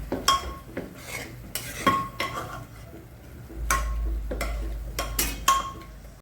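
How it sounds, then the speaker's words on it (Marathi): Softened peas and tomatoes being mashed in a pressure cooker for pav bhaji, with repeated sharp metal clanks and scrapes of the masher against the pot in an irregular rhythm. "थोडंसं आपण मॅश करून घेणार आहे, थोडंसं, जास्त नाही"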